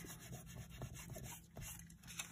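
Soft, faint rubbing and scratching strokes repeat close up as ghost ink is worked off a surface to expose silver color beneath, a steady rasping rhythm with no talking.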